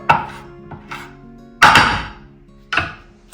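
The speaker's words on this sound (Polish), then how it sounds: "Tu Znaczy trochę posiekamy." Four sharp knife chops on a cutting board while preparing ingredients for lentil soup, close and loud, spaced unevenly with the third stroke hardest and a brief ringing decay after each.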